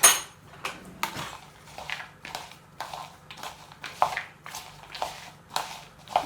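Cinnamon being mixed into apples in a bowl, a spoon clinking and scraping in a steady rhythm of close, moderately loud strokes with soft squishy sounds between.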